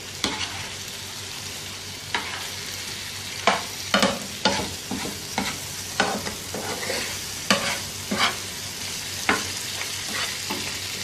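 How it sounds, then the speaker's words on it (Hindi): Mutton sizzles steadily in a flat tawa pan while a spoon repeatedly scrapes and stirs, with sharp clanks against the metal at an uneven rhythm. "एक दफ़ा फिर से मिक्स कर लें इसको।"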